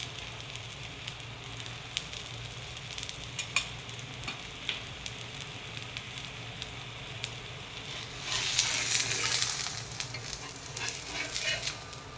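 Gram flour pudla sizzles in oil on a griddle, a steady close frying hiss with small clicks, swelling into a louder, brighter sizzle toward the end as more oil is added.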